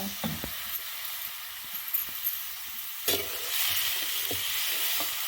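Green chillies sizzle in hot oil in a home kitchen, a steady close frying hiss with occasional clinks and scrapes of stirring, growing slightly louder toward the end.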